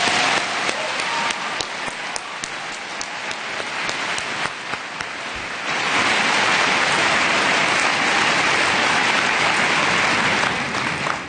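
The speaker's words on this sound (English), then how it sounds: "Please join me in giving Amy Goodman another round of applause." A keynote audience at an MLK symposium claps in a sustained, dense round of applause that swells louder about halfway through and holds steady, with no voices over it.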